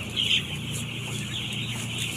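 Chickens cluck softly nearby over a steady background hum, with a brief sharper call near the start and low, scattered clucking afterward; no one speaks.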